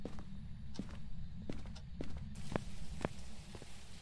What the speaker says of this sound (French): Ah non, c'est juste des pas. Des bruits de pas.